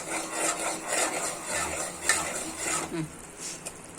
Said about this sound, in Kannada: ಹಂಗೆ ಚಮಚನ ತಿರುಗಿಸ್ತಾ ಇರಿ